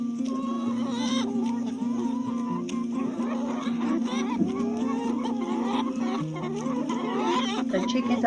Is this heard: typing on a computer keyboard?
no